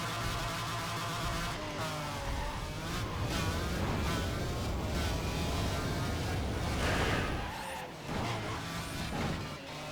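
McLaren F1 engine in a Need for Speed race, a steady buzzing drone that shifts in pitch with revving and tyre noise, with game effects layered on top.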